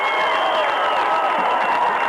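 A baseball crowd cheers and roars in a stadium, a dense, continuous wash of voices and noise holding steady and loud throughout.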